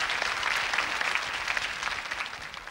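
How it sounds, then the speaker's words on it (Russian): An audience applauds the contestants on a television quiz show, a steady, dense wash of clapping from many hands that lasts the whole moment without voices. "Аплодисменты всем участникам"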